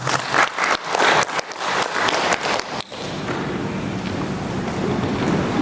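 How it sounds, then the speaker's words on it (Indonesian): An audience at a government socialization event in West Papua bursts into loud clapping, then the sound settles into a softer, continuous background wash. "Sekali lagi mari kita beri tepuk tangan."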